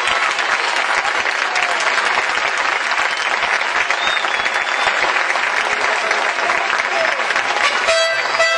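Loud, dense audience applause fills a mariachi performance venue, sustained and steady throughout before a brief shift at the very end.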